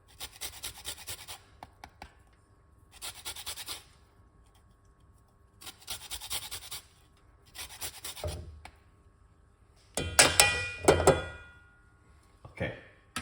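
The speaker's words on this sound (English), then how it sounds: "So once you zest the lime or the lemon, whatever you're going to be using, is up to you." A lime is zested against a rasp grater in short bursts of dry, scratchy scraping, with pauses between strokes and a louder, busier stretch near the end.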